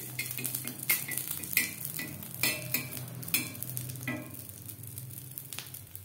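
Neem leaves frying crisp in oil in a flat pan while being stirred and turned, a steady sizzle with scraping and tapping stirs throughout, close and alone.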